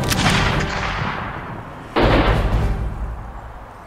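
Gunshots in a film scene: two heavy booming blasts about two seconds apart, each with a long echoing decay, loud and close with no speech.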